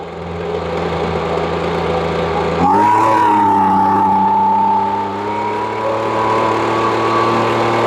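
A Ryobi small petrol engine running after repair, its loud steady drone shifting up in pitch partway through and then settling into an even, continuous idle, close by with no talking.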